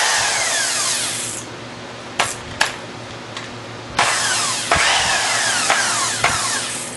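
A power drill under repair, with worn brushes, whirs loudly on low speed, spinning up and down in bursts with sharp clicks and surges, its motor pitch sliding as the speed changes.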